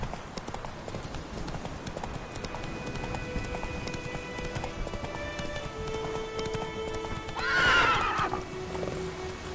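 A horse in The Witcher 3: Wild Hunt gallops with quick rhythmic hoofbeats, then lets out a loud, close neigh near the end before the hooves carry on.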